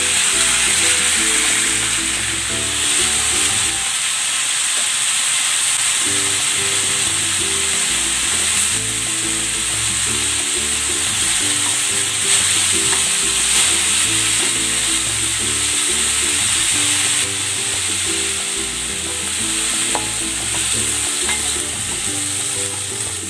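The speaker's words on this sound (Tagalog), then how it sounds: "Maglalagay ako ng cooking oil. Sasangkot ako muna itong pork." Pork sizzling and frying in hot cooking oil in a pan, a steady loud crackle running throughout, with background music playing beneath it.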